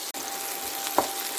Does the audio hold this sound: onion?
yes